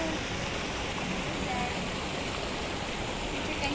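Water rushes continuously at a waterfall on a river outing, a dense, steady roar filling the whole moment without pause.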